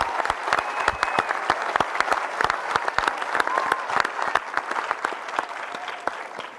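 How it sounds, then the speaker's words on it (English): An audience at a next-generation spacesuit reveal event gives a round of applause, with loud individual claps standing out sharply above a steady crowd roar for over six seconds. "Let's do another round of applause for everyone."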